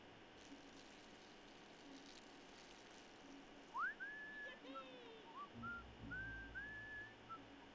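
A character whistling in the Fable II video game, a few rising and sliding whistled notes in the second half over a quiet game ambience, with a low rumble entering partway through.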